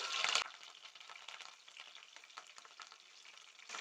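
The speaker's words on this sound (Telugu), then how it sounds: "ఒక కడాయి తీసుకొని అందులో కొన్ని నూనె వేసి కొన్ని పోపు దినుసులు వేసుకుందాం" Tempering spices and curry leaves crackle and sizzle in hot oil in a kadai, opening with a sharp burst of spitting that settles into a faint, steady frying hiss with light pops.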